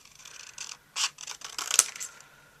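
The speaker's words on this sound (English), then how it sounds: "So I'm going to get my larger scissors." Large craft scissors trimming paper for a stamped pumpkin wood crate project, a few quick close snips and rustles in an uneven rhythm, no talking.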